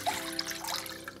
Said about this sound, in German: So, zunächst mal gebe ich hier in einen Topf das Wasser